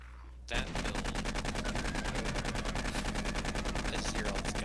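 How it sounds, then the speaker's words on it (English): Rapid automatic gunfire in the survival video game 7 Days to Die, a dense, continuous burst of evenly spaced shots that starts abruptly after a brief quiet moment and stays loud to the end. "Let's hear all this gunfire."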